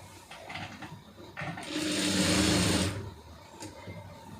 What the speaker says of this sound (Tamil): கரெக்டாக இழுத்து விட்டு சுருக்கம் இல்லாமல் கரெக்டாக அடிச்சிடுங்க